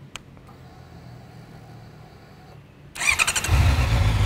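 A Honda CBR650R motorcycle engine cranks and catches, rising into a loud, steady idle after a quiet lead-in with faint background hum.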